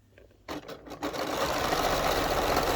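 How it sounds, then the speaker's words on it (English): A sewing machine edge stitches an apron pocket, starting with a couple of short stop-start bursts for the lock stitch, then running loud and steady at close range. "So we start at the top, lock the stitch, and then we edge stitch it."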